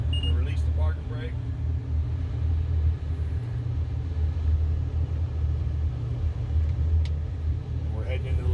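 End dump haul truck pulling away after its parking brake is released, heading toward a lake loading site; a steady deep engine rumble runs throughout under a voice.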